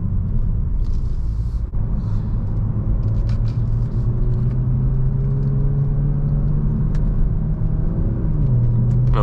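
A BMW Z4 M40i engine rumbles and shifts down through gears, the pitch dropping in steps near the end, heard from inside the car with no talk.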